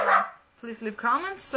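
A pet dog barks and yips close by at the start, then sharp yelps continue while a person talks over them indoors.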